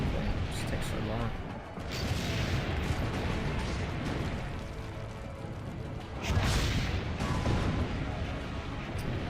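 Cannon fire in Assassin's Creed Brotherhood, booming blasts and rumbling explosions in a dense, continuous game soundscape, with a louder burst near the end.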